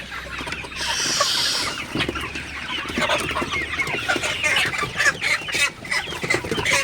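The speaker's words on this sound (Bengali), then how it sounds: "সকালবেলায় দেখতে পাচ্ছেন মুরগিগুলো পানি খাইতেছে" Sonali hybrid chickens cluck and chatter continuously nearby while drinking water, several birds overlapping in busy, uneven bursts with no talking.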